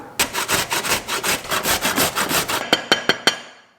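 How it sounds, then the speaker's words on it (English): A carrot is finely grated on the fine side of a grater in quick, steady rasping strokes, close and loud, ending in a few separate sharper scrapes. "A carrot, which I'm going to finely grate."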